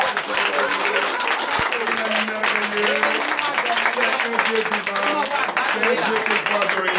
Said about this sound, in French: Donnez encore de vive acclamation